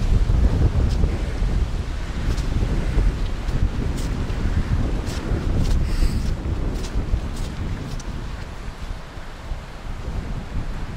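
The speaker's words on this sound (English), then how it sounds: "We're just getting blasted with the wind." Strong gusting wind buffets the microphone on an exposed hike in Glen Nevis, Scotland, a steady loud roar of broadband rumble that persists for the whole stretch with no voices.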